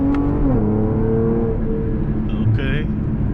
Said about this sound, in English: Gonna do a hard acceleration.